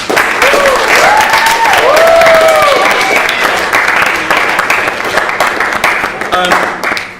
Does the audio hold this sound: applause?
yes